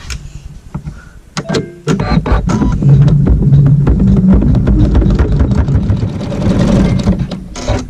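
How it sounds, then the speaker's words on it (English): An embroidery sewing machine sewing a satin stitch around an applique: after a few clicks and bumps, a loud, fast, steady mechanical whirr of stitching runs continuously, close by. "it's going to sew a satin stitch around this applique"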